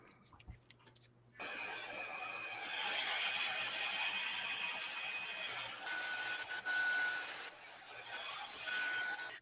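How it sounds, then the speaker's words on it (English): A handheld craft heat dryer whirs steadily for several seconds, a fairly faint broadband blowing hiss with a thin whine, cutting in and out a couple of times, with no talking over it. "I'm going to run a dryer on mine"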